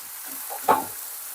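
Ragi dosa batter poured onto a hot, unoiled tava sets off a short, soft sizzle that flares briefly and fades against a quiet background.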